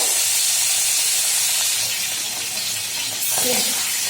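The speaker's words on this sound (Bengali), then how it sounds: "মাছগুলোকে একটু একটু ভেজে নিচ্ছি মাছগুলোকে তেলে" Fish pieces frying in hot oil, a loud, steady hissing sizzle that fills the whole stretch with little change.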